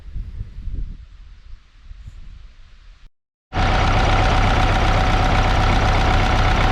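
A tractor engine, running in a field after a hose was replaced, rumbles low and unevenly, cuts out briefly, then returns as a loud, steady, close drone.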